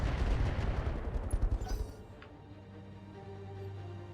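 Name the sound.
mech weapons firing in video game Roguetech BattleTech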